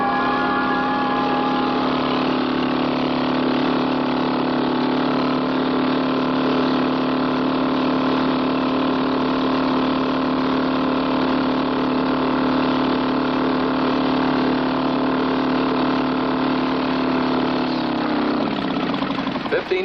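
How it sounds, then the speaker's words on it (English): An engine said to run on a homemade water-based fuel mixture idles at a steady, even drone for nearly twenty seconds, loud and close, then sputters and cuts out at the end. "the engine would run all day if you keep pouring this mixture of mine in the tank"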